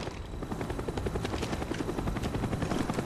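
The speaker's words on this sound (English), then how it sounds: "Is that our helicopter or no?" A video game helicopter, heard in a multiplayer match, gives off a steady, fairly loud rotor thump with rapid rhythmic blade chopping over a low engine drone, continuous throughout.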